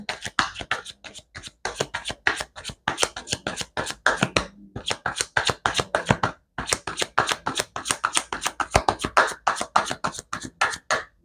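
Tarot cards shuffled by hand in quick, crisp riffling bursts, a dense run of sharp flicks with one brief pause, close and clear with no talking.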